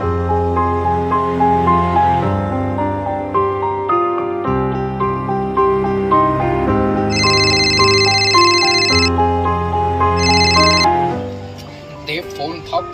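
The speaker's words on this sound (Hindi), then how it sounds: "अरे फोन उठाओ।" A telephone rings in a Hindi crime drama series scene, bright repeated ringtone bursts sounding over a loud music bed, fairly close and prominent midway through.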